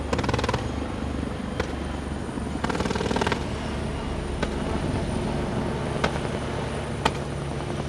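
Super Lynx and Phoenix gunship helicopters flying low at treetop level during a live-fire military exercise, a loud continuous rotor roar with bursts of rapid rattling fire and a few sharp isolated cracks.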